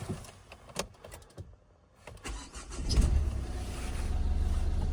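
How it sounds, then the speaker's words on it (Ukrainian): A 2010 Nissan Qashqai 1.5 K9K diesel engine with 226,000 km cranks and catches, then settles into a steady low idle rumble, heard close by after some clicks and handling noises. "двигун запускається також в автомобілі чудово"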